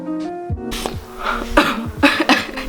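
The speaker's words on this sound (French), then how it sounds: "J'ai pas toussé à cause du tabou," A woman coughs several times in short bursts, close and fairly loud, with brief pauses between coughs and no talking.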